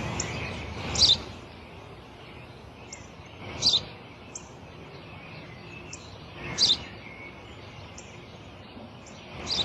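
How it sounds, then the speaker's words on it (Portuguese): Sparrow chirps ring out outdoors over a steady hiss of background noise, landing as short bright calls at a slow, irregular pace, with a few louder chirps standing out among fainter ones. "É um pardal."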